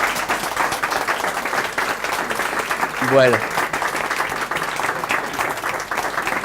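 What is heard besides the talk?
audience applause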